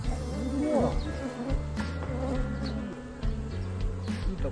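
A dense swarm of honeybees hums continuously at close range beside hive boxes, with individual bees zipping past and faint voices murmuring in the background.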